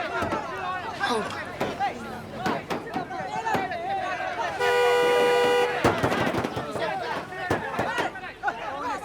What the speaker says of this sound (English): Honk them.